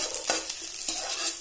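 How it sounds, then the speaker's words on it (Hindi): Raw banana peels frying over a low flame in a pan, a steady close sizzle with sharp scrapes as they are stirred. "इसे अच्छे से भून लें, जब तक ये ब्राउन ना हो जाए इसे भूनते रहें।"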